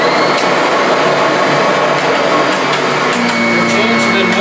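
A Kirby Avalir 2 vacuum motor runs loud and steady throughout, a continuous close whirring drone with a faint tonal whine.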